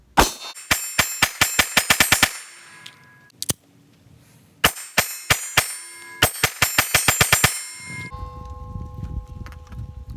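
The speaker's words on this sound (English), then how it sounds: "Love the sound of that steel, baby." Rounds from a Springfield Hellcat pistol ringing off steel targets in rapid strings of sharp clanging hits, several quick bursts separated by short pauses, loud and close.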